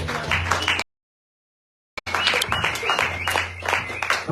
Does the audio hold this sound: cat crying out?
no